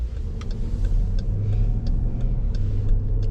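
A 2022 Dodge Durango R/T with a 5.7-liter V8 rumbles low and steady from inside the cabin as it drives, with a faint rise in engine note and light ticking clicks, no talk.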